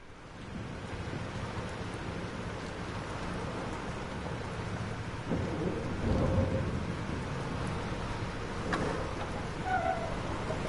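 Thunderstorm in the video game Life is Strange: steady heavy rain hiss with rolling thunder swelling midway, loud and close, with no voices.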